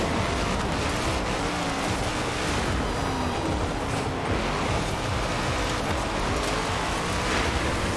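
Steady rain hissing throughout a race in the video game Forza Horizon 4, a broad continuous wash blended with car engine rumble, loud and unbroken with no talking.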